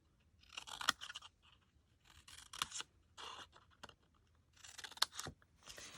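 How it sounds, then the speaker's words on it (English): Scissors snip through patterned paper along score lines in close, crisp bursts of several quick cuts, separated by brief pauses, quiet and alone. "you're going to cut up the vertical score lines"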